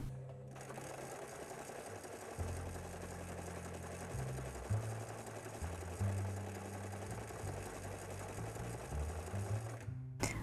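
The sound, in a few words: sewing machine stitching fabric along a curve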